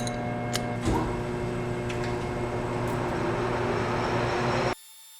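A metal lathe turning down a piece of roughly one-inch stock, a steady whirring hum with a faint cutting hiss and a bump near the start, running continuously before cutting off abruptly near the end.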